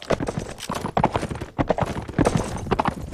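Horse hooves gallop in the Warband video game, fast, loud, rhythmic clip-clop thuds close up and continuous throughout.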